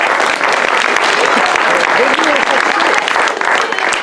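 Loud, dense applause from a large theatre audience, sustained steadily throughout without a break.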